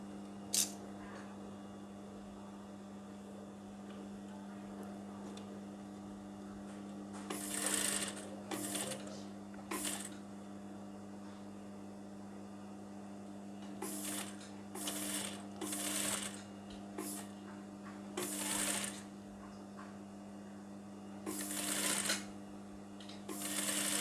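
A sewing machine stitches a hem in short, separate bursts of rapid mechanical whirring over a steady low hum, starting and stopping with quiet pauses between runs.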